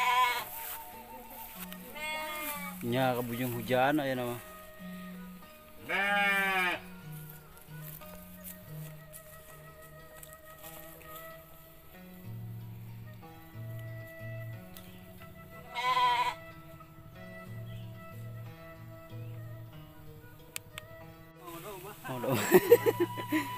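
Sheep bleat in several wavering, nasal calls at moderate distance, scattered among quiet people talking in a rural village setting.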